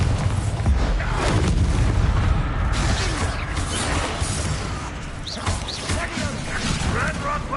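A Bombarda spell explodes during combat in Hogwarts Legacy, with booming crashes and bursts layered into busy battle noise while voices are heard in the mix.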